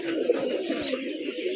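A Giribaz pigeon at a loft in Rajshahi gives a low, steady cooing call up close, with no talking.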